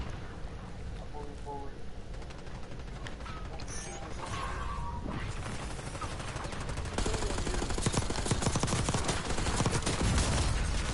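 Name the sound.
gunfire in video game Call of Duty multiplayer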